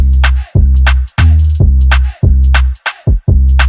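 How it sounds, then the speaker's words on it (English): Deep, booming 808 bass notes pulse in a rhythmic pattern, each long sliding tone cut off by short gaps, loud and upfront. "Then I added the 808 for the bass line."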